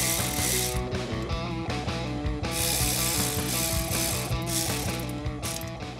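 A torque wrench tightens bolts to spec on a 525-horsepower LS3 engine, ratcheting in rapid, loud, evenly repeated clicks that run continuously over a droning tonal background.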